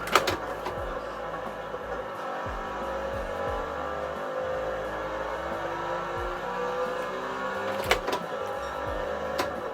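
Car engine in the racing video game Gran Turismo 7, heard from outside the car: a steady engine drone rising and falling through repeated gear changes, with a couple of sharp clicks or knocks.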